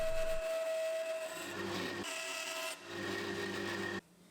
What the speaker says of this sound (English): I mark them up and make the cuts at the bandsaw